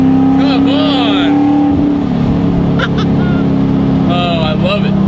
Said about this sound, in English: I love this motor.